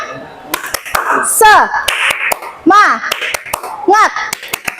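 A classroom of children claps out a rhythmic chant pattern, sharp claps in quick groups broken by short bursts of their voices calling along, loud and close.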